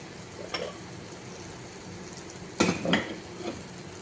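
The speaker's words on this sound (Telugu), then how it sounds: "ఇప్పుడు వేపుకున్న పచ్చిమిరపకాయలు కూడా దీంట్లో వేసుకోవాలి." Fried green chillies are stirred into homemade tomato pickle, giving soft scraping and mixing sounds with a few sharper clinks of a spoon against the vessel, close and moderately quiet, with no talking.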